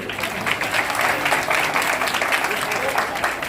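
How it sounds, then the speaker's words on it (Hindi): An audience at a Basant Panchami cultural festival gives continuous, dense applause that stays fairly loud and steady from start to finish. "एक बार जोरदार तालियां बजाइए।"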